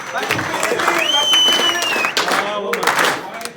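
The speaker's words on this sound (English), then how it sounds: "Give yourselves a round of applause." A crowd claps and cheers, with a long whistle rising over the applause before it thins out near the end.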